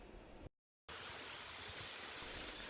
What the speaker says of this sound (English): I'm basically just using compressed air to blow out any of the passages for the coolant passages